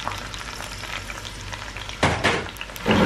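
Onions crackle and sizzle in a pan of hot oil for a masala bhindi, a dense close-up frying hiss with louder bursts as they are stirred.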